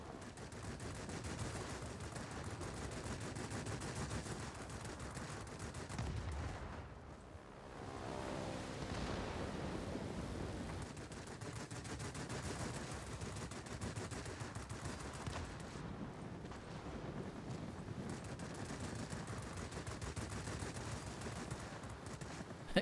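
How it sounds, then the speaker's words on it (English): Aircraft guns in a Wargaming air combat game firing in long continuous bursts, a dense, steady, loud rattle of gunfire with a short break partway through before resuming. "Guns overheating because just haven't had time to stop firing yet."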